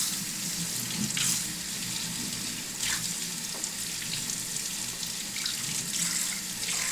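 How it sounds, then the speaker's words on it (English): Tap water runs steadily into a kitchen sink while a chef's knife is rinsed, a continuous close hiss with slight splashing changes as the blade moves under the stream. "And then I'm going to rinse off my knife."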